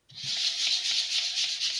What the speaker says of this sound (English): I'm using my sanding block, going in nice big circles.